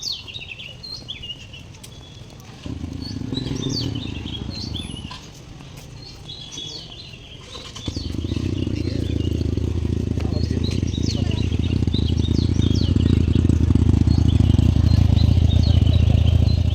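Small birds chirp and tweet steadily in the background outdoors while a low engine rumble swells in and holds underneath them.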